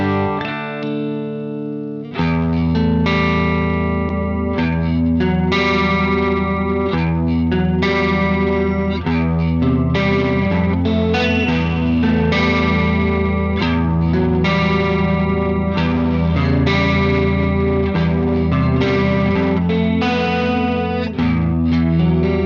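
Electric guitar through a Dr. Z Nova amplifier with classic tweed and Plexi-style voicing, set to a clean tone, strumming chords and ringing arpeggios steadily and closely for about twenty seconds after a brief sustained opening note.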